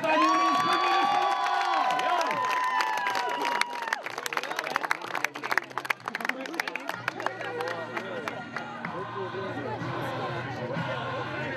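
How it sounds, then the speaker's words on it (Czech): A crowd at a volunteer fire brigade's 120th anniversary celebration in Dolní Přím claps and cheers for the firefighters, with scattered applause and shouts swelling partway through and continuing under an announcer's voice. "Ještě jim zatleskejte"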